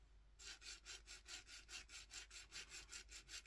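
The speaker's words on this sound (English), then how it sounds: "I actually got a file and I take off the Teflon coating" A metal file scrapes Teflon coating off the shank of a fishing hook in steady, even back-and-forth strokes, about four per second, close and fairly quiet with no talking.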